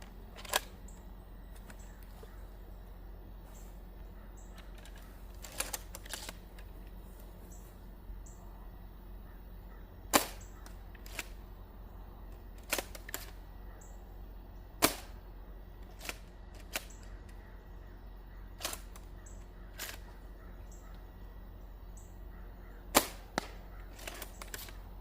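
A Nerf Caliburn blaster fires X-Shot Air Pocket full-length darts from an N-Strike magazine. Sharp single shots come at irregular intervals over a steady low hum, close and crisp, with a few fainter clicks between them.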